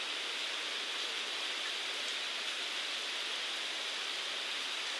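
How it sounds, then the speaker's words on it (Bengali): Heavy rain pours steadily after a long dry spell, a dense, even hiss that stays constant with no breaks or voices. "বৃষ্টি পড়তেছে তো পড়তেছেই"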